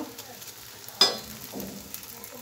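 Aloo paratha sizzling in a little oil in a pan just after being flipped, with a sharp clack of the spatula early on and a soft steady crackle afterwards.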